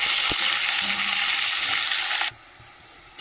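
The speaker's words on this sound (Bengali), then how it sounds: "পেঁয়াজ কেটে রেখেছিলাম, পেঁয়াজটা দিয়ে দিলাম। পেঁয়াজটা ভাজা হোক" Sliced onion sizzles loudly in hot oil tempered with cumin, dry chilli and bay leaf. The steady crackle stops abruptly after about two seconds, leaving quiet.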